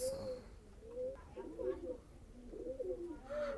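A Hasipa breed pigeon coos softly in a few low, rolling phrases, fairly quiet and close, with faint voices in the background.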